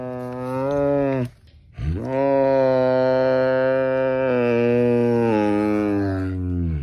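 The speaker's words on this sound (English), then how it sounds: "When you hear a tiger making this sound" A tiger gives two long, low, cow-like moans, the first about a second long and the second stretching several seconds, loud and close with no other sound.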